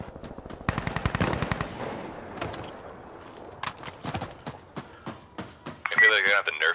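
Rapid bursts of Glock and other gunfire crackle in the shooter game Insurgency Sandstorm, with fast repeated shots and scattered single cracks, while a person talks over them.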